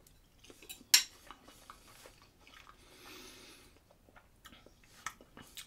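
Eating from a hot bowl of French MRE ration with sausage: quiet, close clinks of a utensil against the bowl, one sharp scrape, and soft chewing and squishing sounds in a hushed room.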